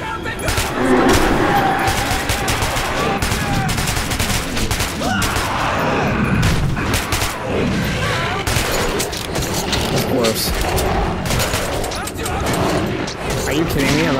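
Gunfire in the Metro 2033 video game: dense, continuous bursts of rapid shots and automatic fire, loud and close, with shouting voices mixed in throughout.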